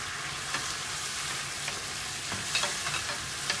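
Shrimp sautéing in a pan for ginisang togue, a steady soft sizzle with faint scattered stirring clicks, fairly quiet and even throughout with no talking.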